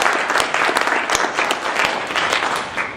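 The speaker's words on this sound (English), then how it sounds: "Let's have a round of applause for all these guys." Audience applause for comic-book award nominees at the 2013 Inkwell Awards ceremony, a dense, steady crowd clapping that stays loud and close throughout with no talking over it.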